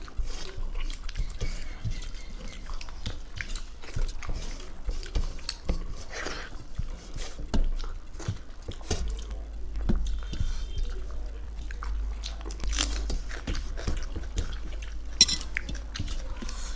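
Close-up eating of boiled egg curry with rice by hand: soft, wet chewing and squelching mixed with occasional clinks of a plate, steady and intimate, with brief murmured speech in places.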